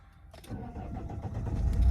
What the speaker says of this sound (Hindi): स्टार्ट तो हो गई पर इंजन वाली बत्ती बरकरार है अभी।